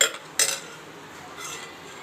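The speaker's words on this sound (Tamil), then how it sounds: "ஊற்றி மொல்லமாக கலந்து விடணும்" Ragi flour batter is stirred in a pot on the stove for ragi koozh. A couple of brief metallic scrapes and clinks of a spoon against the pot sound close, then fade into quiet.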